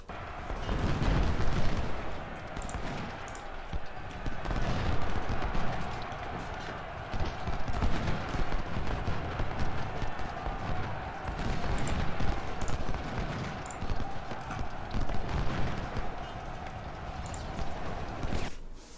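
Cavalry horses gallop across a battlefield in the Civil War strategy game Ultimate General: Civil War, a steady drumming of hooves mixed with distant gunfire and artillery, with a voice talking over parts of it.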